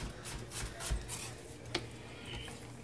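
A knife chops through an onion on a cutting board in quick, uneven strokes, with soft close taps and scraping heard alone at a modest level.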